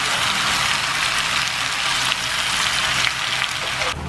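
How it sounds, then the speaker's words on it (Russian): Onion and starch-coated pork sizzle and crackle steadily in hot sunflower oil in a pan, a dense continuous frying hiss close up with no voices. "Лук и мясо в крахмале отправляю на сковородку с подсолнечным маслом."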